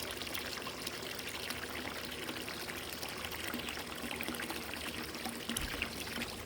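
Water from a garden hose pouring steadily into a bird bath, a continuous close splashing stream throughout.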